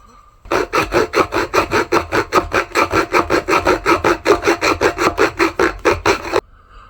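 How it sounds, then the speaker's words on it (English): A keyhole saw cuts through wood for a hammer handle in quick, rhythmic back-and-forth strokes, close and loud, about two dozen rasping passes before stopping abruptly. "I was doing it with a little keyhole saw"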